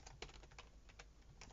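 Typing on a computer keyboard during C# programming: a quick, irregular run of close key clicks with small gaps, alone without talking.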